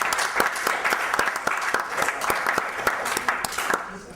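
Applause from a small audience cheering a game winner, a close, busy patter of claps with sharp individual hand strikes, steady for several seconds before thinning at the end.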